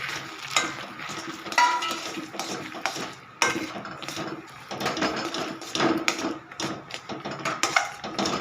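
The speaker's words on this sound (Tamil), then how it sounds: "இப்போ நம்ம இந்த ஸ்டேஜில் வேர்க்கடலையை போட்டு கிண்டிக்கலாம்" Peanuts are stirred into hot jaggery syrup in a pan, a run of close, irregular scraping and clattering knocks of a spoon against the vessel, continuous and moderately loud.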